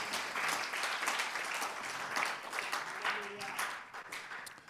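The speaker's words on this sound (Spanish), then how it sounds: "denle un buen aplauso al Señor" A church congregation gives a hearty round of applause during a worship service, a continuous rippling clap from many people with faint voices mixed into it before it tapers off.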